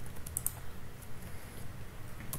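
Quick, light keystrokes on a computer keyboard while C# code is written, a steady patter of close clicks with a few sharper taps, heard alone.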